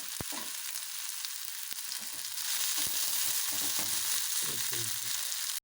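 Ginger, garlic and shallots frying in a pan for a Kerala fish curry, a steady soft sizzle close by with a few clinks and stirring scrapes, no talking.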